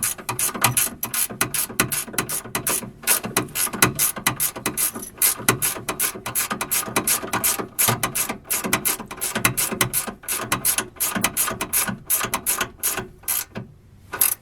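A ratchet wrench tightens a sway bar bolt on a 2G DSM car while an RM Racing sway bar is fitted, clicking in a fast, steady run of sharp ticks close to the microphone with brief pauses, and no talking.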